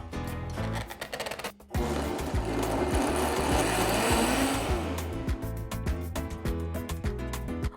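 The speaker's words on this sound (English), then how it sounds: "Cover and blend." Countertop blender whirring loudly and steadily for several seconds, blending spices like dry oregano, marjoram and black peppercorns with onion for guajillo refried beans; starts after a short pause and runs continuously.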